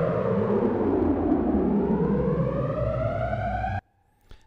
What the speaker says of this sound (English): It sounds in my headphones like there's a siren outside my house.